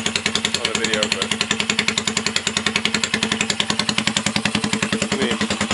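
A custom motorcycle engine runs loud and close with a deep, rapid, pulsing chug and a slightly uneven throttle, while a voice talks over it.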